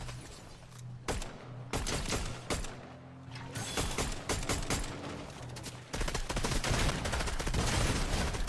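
Video game gunfire rattles in rapid single shots and automatic bursts, loud and close, over a dense background of game noise.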